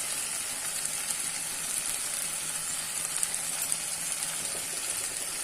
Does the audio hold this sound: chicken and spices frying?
yes